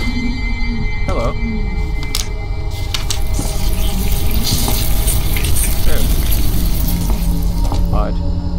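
A toilet in the Layers of Fear video game flushes and refills, giving a loud, continuous rush of running water that churns for several seconds without letting up.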